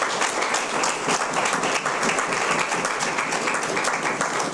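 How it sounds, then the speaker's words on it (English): A youth parliament audience applauding steadily, dense clapping from many hands sustained throughout without a break. "Give yourselves a round of applause."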